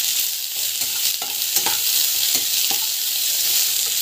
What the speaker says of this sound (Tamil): இதில் நல்லா வந்து ஃப்ரை ஆகிடணும்.